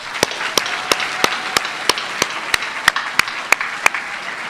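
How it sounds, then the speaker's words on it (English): Applause for school honorees at an awards ceremony, heard as a steady wash of clapping from a crowd, with a few sharper, nearer individual claps standing out at regular intervals throughout. "let's give them a round of applause as well"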